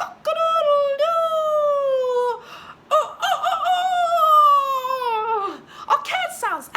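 A voice imitates a rooster crowing, two long drawn-out calls separated by a brief pause, loud and close.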